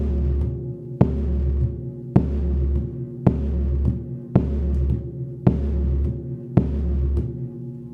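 A surdo drum with a Napa head on top and single-ply nylon below, struck in a slow even pulse of seven deep bass hits, each ringing with a long booming sustain that nearly meets the next stroke.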